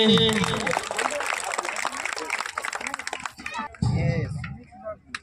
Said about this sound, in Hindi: और जोरदार तालियां बजेंगे।